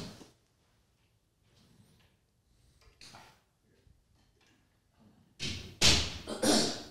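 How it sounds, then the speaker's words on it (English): An indoor door is pushed shut and lands with two or three loud thuds and clatters close by, after a stretch of near-silence with faint room noise. "I'm going to shut this door."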